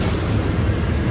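A long freight train rolls steadily past at close range, a continuous loud rumble of wheels on rail with no voices.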